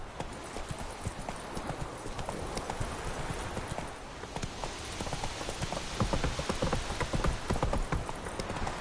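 Steady clip-clop of Roach the horse's hooves in The Witcher game, continuous trotting hoofbeats close by over a rainy ambient backdrop, with a faint whinny possible and no talk.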